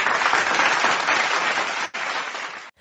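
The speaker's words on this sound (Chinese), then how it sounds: "先给你一个掌声鼓励鼓励" Dense, steady applause during a live-streamed Taiwanese opera session, loud and continuous for under three seconds with a brief dip, then cutting off abruptly.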